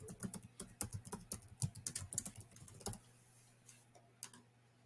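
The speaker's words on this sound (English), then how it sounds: "You'll want to now type in your business name." Typing on a computer keyboard, a quick run of crisp key clicks at close range that stops after about three seconds, followed by a few scattered taps over a faint steady hum.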